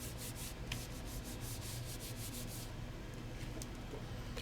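Hand rubbing briskly over a stencil on paper, a dense rhythmic scratchy swishing close to the mic, steady throughout with no voices.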